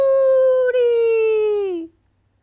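A voice imitates a coyote howl: one loud, sustained, close tone that holds steady and slides gently downward before cutting off after about two seconds.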